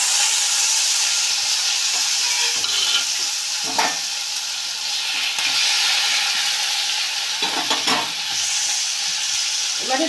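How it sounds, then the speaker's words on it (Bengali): Chopped tomatoes hit hot oil tempered with nigella seeds and green chili for a Bengali fish curry, giving a steady, loud sizzle with occasional stirring scrapes throughout. "ওই তেলের মধ্যেই আমি টমেটো কুচিগুলো দিয়ে দিলাম।"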